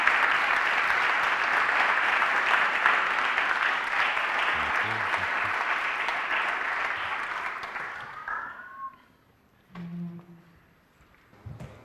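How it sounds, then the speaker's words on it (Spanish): Audience applause for the speakers at the close of a business forum on internationalization in Italy, sustained clapping for several seconds that tapers off, followed by a few faint bumps and handling noises. "pediría un aplauso para los ponentes."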